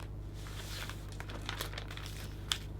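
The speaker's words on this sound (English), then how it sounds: "and then we can open the cellophane, and this creates a nice wonderful effect on both sides" Cellophane wrapping on a Christmas gift bag arrangement with a scalloped edge is pulled open, giving soft, close crinkles and rustles with a sharper crackle near the end, over a low steady hum.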